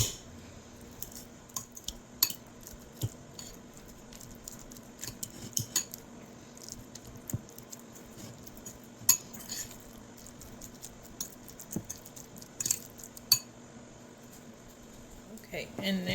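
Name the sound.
mashing avocado with the back of a fork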